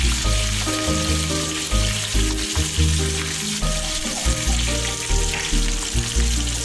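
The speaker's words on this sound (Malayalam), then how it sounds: "ഇല വറുക്കുമ്പോൾ ഉള്ള ആ ഒരു സൗണ്ടാണ്" Hot oil sizzles and crackles steadily in a pan as fish and leaves fry, a dense hiss with a low rhythmic bubbling underneath and no voices.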